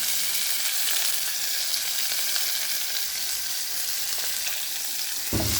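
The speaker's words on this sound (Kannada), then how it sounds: "ಕರ್ಬೇವು ಹಾಕಿದ್ದನ್ನು ತಾಳಿಸ್ತಾ ಇದ್ದೀನಿ ನಾನು ನೋಡಿ ಹಸಿಮೆಣಸಿನ್ಕಾಯಿ ಹಾಕಿದ್ದೀನಿ" Curry leaves, green chilies and chunky chopped onion sputtering in hot oil, a dense, steady hiss that stays loud and close throughout, ending in a brief knock of a utensil.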